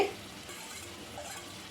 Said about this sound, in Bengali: এবার থোড়টা আমি এই ভাজা আলুর মধ্যে দিয়ে